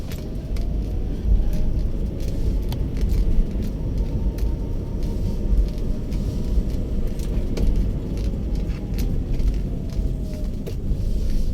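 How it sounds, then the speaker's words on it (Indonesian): A car driving along a quiet road at night, a steady, loud engine and tyre rumble that drones on evenly from start to finish with no voices. "Ternyata ada mobil."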